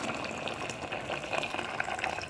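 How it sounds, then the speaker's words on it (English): Water pours steadily into a pot for cooking rice and peas, a continuous close splashing gush with no voices. "so I'm just going to pour enough water in there"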